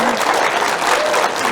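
Brief, steady applause from a user group audience at a tech talk, a moderate smattering of clapping that fills the whole moment without any voices over it.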